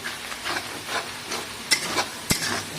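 Spice paste for a chicken, potato and tomato curry sizzles in hot oil while a spoon stirs it in repeated scraping strokes, with a few sharper clinks against the pan; close and fairly quiet, no talking.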